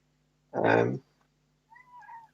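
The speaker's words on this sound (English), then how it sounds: "I can hear a cat. Yeah, it's my cat." A domestic cat lets out a single loud, close meow lasting about half a second, followed after a pause by a softer, higher sound.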